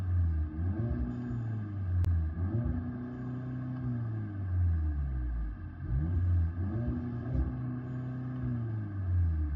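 An Audi A3 engine accelerating, a low rumbling tone that rises and falls in several repeated revs, steady and moderately quiet, heard from inside the car.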